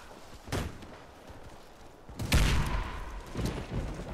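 Grenade blasts in the shooter game Warface: two broad booming bursts, a short one early and a heavier, longer one midway, with a fainter thump near the end over low battle noise, no talk.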